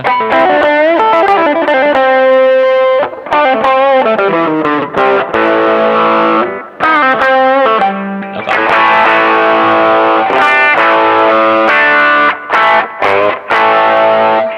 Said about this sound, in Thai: พอเข้าเสียงแตกตัวนี้ค่อนข้างจะออกไปทางร็อก